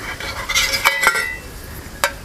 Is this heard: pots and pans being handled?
yes